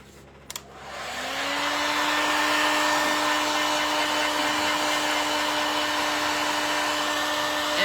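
A handheld heat tool starts up after a brief click and then blows steadily and loudly with a constant whine, warming a DIY transfer on a rustic primitive cottage piece.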